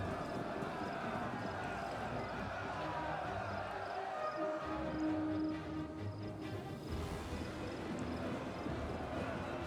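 Cavalry horses charge in a Total War Rome 2 siege battle, a steady drumming of many hooves under a wash of distant battle crowd noise, with a brief deeper thud midway.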